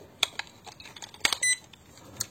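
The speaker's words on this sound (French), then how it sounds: "Il y aura un bip." Short electronic beeps from a Pixdream Pixdrone Z20 4K (SG106) drone remote control after its batteries go in, several brief chirps ending in a slightly longer tone, quiet and close with no talk.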